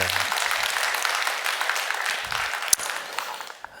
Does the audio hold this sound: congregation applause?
yes